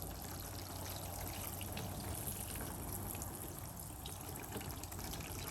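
Water runs from a pressurized solar camping shower, a faint steady pouring trickle that continues without pause and without talk.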